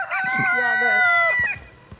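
A single loud, close crow from a small rooster, rising and holding for about a second before trailing off, followed by faint background noise.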